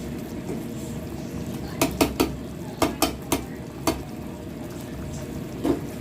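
Chicken curry with coconut milk stirred in a pot, a spoon knocking the sides in several distinct clinks over a low bubbling simmer, close by.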